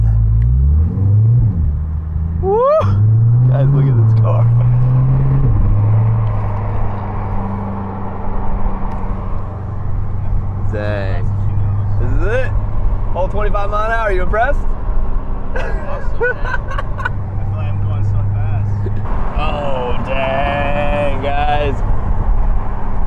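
A Liberty Walk widebody C8 Corvette, just painted at a body shop, rumbles steadily down the street with a low engine drone throughout, while people talk and exclaim over it from inside the car.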